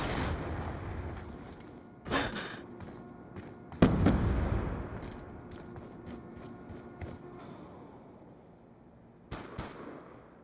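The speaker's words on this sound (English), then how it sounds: "Bomb dropped." Bombs and explosions go off in the video game Black Ops 2, several booming blasts and scattered crackling shots arriving in bursts with quieter gaps between them, without talk.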